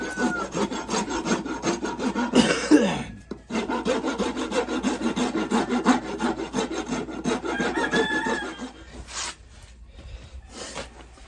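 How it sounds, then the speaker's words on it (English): A hand rasp smooths a knotty wooden pole in steady back-and-forth rubbing strokes, close and fairly loud, pausing briefly near the three-second mark, with a rooster crowing in the distance. "let me get the rasp and smooth this up."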